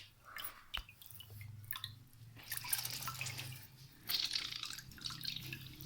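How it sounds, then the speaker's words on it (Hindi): Bread slices dipped one by one into a bowl of water in a home kitchen, making faint, soft drips and wet splashes, quiet and close, with no one talking. "ये एक मैंने बाउल में पानी ले लिया, इनको मैं बाउल में डिप करते जाऊँगी पानी में।"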